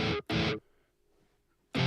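Distorted drum hits from a sample pack in a mobile music app: three harsh, buzzing bursts, two close together then a gap of near silence before another, loud and gritty.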